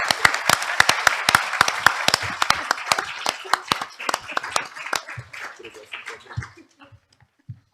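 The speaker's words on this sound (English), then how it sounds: "Join me in the round of applause for our distinguished speakers" Round of applause for speakers at the Bucharest Arbitration Days conference; a small group's sharp, distinct claps, fairly close, thinning out and fading to a few scattered final claps.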